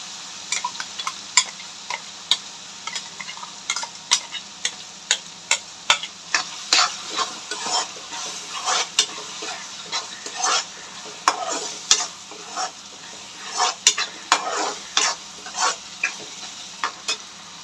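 Ground paste of ginger, garlic, pepper and cumin stirred into softened tomatoes in a pan for a screw fish curry, with steady close sizzling and frequent sharp scraping clicks of a spoon against the pan throughout.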